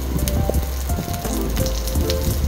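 Pork and sliced onions sauté in a hot pan for a pork ribs sinigang, giving a steady, close hiss of sizzling oil with small crackles and pops, heard alone.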